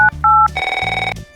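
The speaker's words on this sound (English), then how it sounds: "It's everything from making a phone call," A telephone sounds a few short two-tone dialing beeps, then a fast warbling ring pulses loudly, followed by another brief tone, with no voices.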